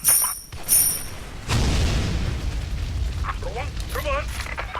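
A deep booming grenade blast in the shooter game Special Force 2 erupts after a couple of short synthetic game sounds, its rumble lingering and fading, followed by small electronic chirps.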